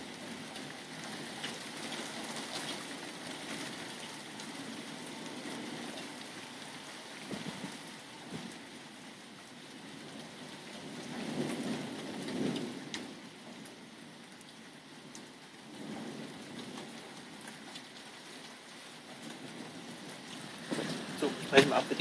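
Heavy rain from a coastal thunderstorm, a dense steady hiss filling the scene with a few low rumbling swells, faint voices underneath.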